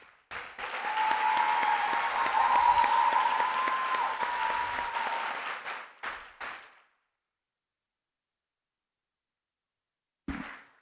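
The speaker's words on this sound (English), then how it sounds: "I just hope you all join me in a round of applause for these amazing people." A crowd bursts into sustained, enthusiastic applause at a physician assistant white coat ceremony, loud and dense for several seconds before cutting off abruptly, followed by silence and a brief final snippet.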